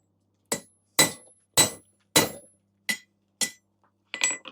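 Hammer blows on iron while punching a slug through during tong forging, seven sharp ringing strikes with short pauses between, close and loud with nothing else around them.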